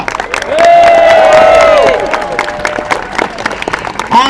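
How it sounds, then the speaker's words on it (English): Loud applause and cheering from an outdoor comedy gig crowd at the Edinburgh Fringe, swelling with whoops early on, then settling into steady clapping as a new performer is welcomed. "I want you to keep the applause rolling now and welcome our next performers."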